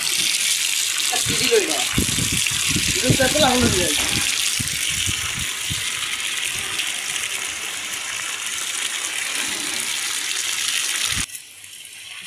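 Water poured at a masonry construction job gushes steadily for about eleven seconds and then cuts off, while workers talk over it.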